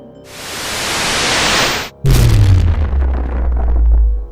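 A dramatic explosion effect in an audio drama: a rising rushing whoosh swells for two seconds, drops out briefly, then bursts into a loud booming blast with deep rumbling decay, no voices.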